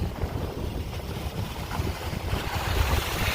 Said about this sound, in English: I know it's super windy